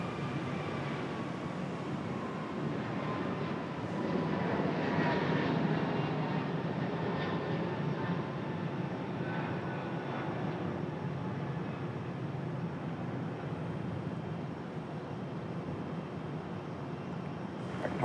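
An American Airlines Airbus A321 at Raleigh Durham airport gives off a steady, distant jet roar that holds at an even level throughout, with no talking.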